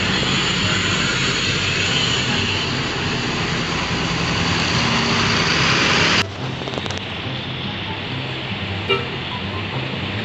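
A Santika Jet Bus coach leaves the bus terminal at Jati, Kudus, its engine a loud steady rumble close by that cuts off abruptly partway through, leaving quieter traffic noise afterward.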